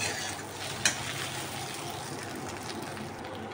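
Idli pieces being stirred in a hot pan over a low flame, giving a steady close sizzle with a brief sharp scrape or clink near the start and no talk.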